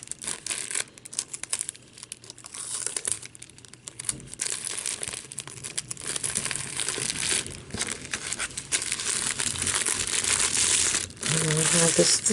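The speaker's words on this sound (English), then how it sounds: "Tape down. Do the same thing on this side, fold it over." Cardboard and tape being handled while making a Valentine candy bar tag, with close crinkling, rustling and tearing noises and a voice talking over the work.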